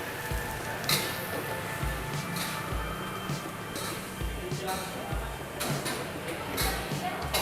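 Steady loud sizzling as water is poured into a hot pan while cooking dim sum, with clinks of utensils and talk going on over it.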